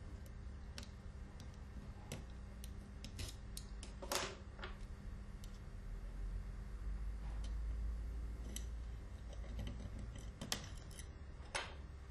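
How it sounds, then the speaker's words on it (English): O-rings are cut off an Alfa Laval tank cleaning head, giving quiet, sharp snips and small ticking clicks scattered irregularly over low background hum, close and faint with no talk. "Cut and remove the O-rings."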